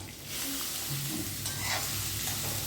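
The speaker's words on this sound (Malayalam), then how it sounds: "വെളിച്ചെണ്ണ ഒഴിച്ചിട്ട് നമുക്ക് ആ ഉള്ളിനെ എണ്ണയിട്ട് വറുത്തെടുക്കാം." Onions fry in coconut oil for an Onam-style onion theeyal, a constant close sizzle with stirring scrapes throughout and no talk.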